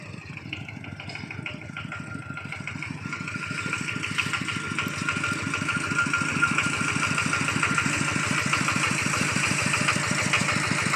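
Vehicle engine running close by, a steady mid-pitched chugging idle that grows slightly louder as the vehicle pulls in, continuous throughout with no talk.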